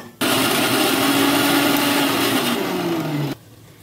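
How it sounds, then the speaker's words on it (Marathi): A mixer grinder whirs loudly for about three seconds, blending fried onion with coconut flour, its motor whine sliding lower in pitch as the contents blend, then cuts off abruptly. "आता हे मिक्सर करून घ्यायचे"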